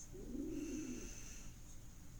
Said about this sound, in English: that's my pigeons cooing